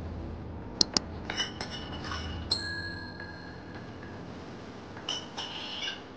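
Spoon scooping red chili masala (Agri masala) for a bangda (mackerel) fish marinade, giving light clinks and scrapes of metal against a bowl in a few brief taps, close and fairly quiet with no talk.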